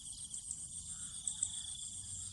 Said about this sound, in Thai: เสียงจิ้งหรีด